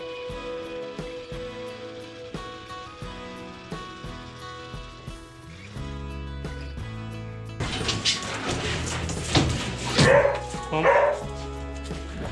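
On a snowy farm, a dog barks and yips excitedly in the second half, close and loud over background music that plays throughout.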